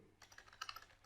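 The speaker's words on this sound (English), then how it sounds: "this is a new keyboard, still did not get habituated to these keys" Someone types on a new computer keyboard, a short, quiet run of close key clicks at an uneven pace with no voices.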